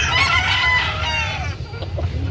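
A rooster crows loudly and close by at a rooster farm expo, one long drawn-out call that fades into clucking and faint background voices.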